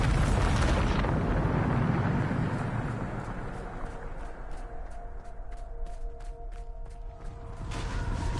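A Bombarda spell explodes in Hogwarts Legacy with a loud, rumbling eruption up front that decays into a long, roaring tail, with metallic creaks and scattered clicks in the fading debris.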